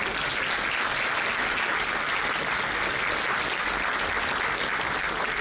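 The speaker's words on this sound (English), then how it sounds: "Aman Verma, Anisha Bajaj, Abhimanyu Mehta, Dear students, a passionate and energetic clap, please." Dense, steady applause from students at a Thapar Institute of Engineering & Technology celebration, a large crowd clapping continuously and loudly without pause or talk.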